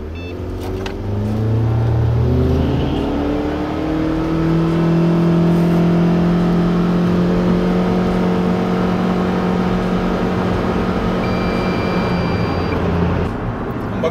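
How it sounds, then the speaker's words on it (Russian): A Geely Emgrand 7 with a 1.8 engine and CVT accelerates hard, giving a steady rising engine drone that holds loud and close for most of the stretch, with no talk over it. "Сделаем несколько циклов разгона для того, чтобы наиболее точно высчитать результат."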